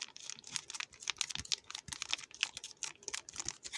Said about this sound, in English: we got some more cheese spread, so I've been told you kind of have to squidge this in ASMR for you